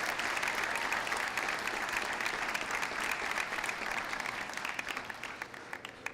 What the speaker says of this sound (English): I think that deserves another special round of applause for Miss Robinson.